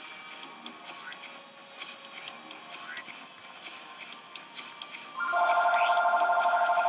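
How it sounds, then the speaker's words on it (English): A mobile phone ringtone starts partway through, loud and steady over background game sound effects with rhythmic bursts. "And now my phone's going off again."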